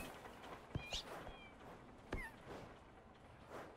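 Cartoonish cat meows from the video game Propnight, two short quiet mews in the first half of the clip with faint game ambience around them. A voice imitates the meowing.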